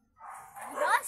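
A dog gives a single short, faint yip or bark, a brief high cry lasting under a second, slightly distant.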